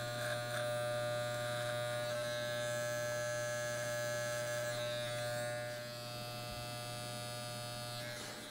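An electric hair clipper shaves the neckline during a men's undercut haircut, giving a faint, steady, close buzz with a constant hum that stays unbroken throughout.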